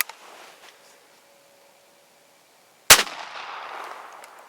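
A single loud, close shotgun blast from an IGA Boito Hiker .410 fired at a clay target outdoors, breaking a near-silent pause and trailing off into a long fading echo.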